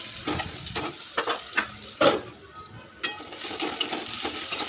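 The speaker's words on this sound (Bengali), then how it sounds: "এ দেখো পেঁয়াজটা লাল করে ভেজে নিচ্ছি" Onion frying in a pan and being stirred, a steady close sizzle broken by several sharp scraping strokes of the spoon at irregular intervals.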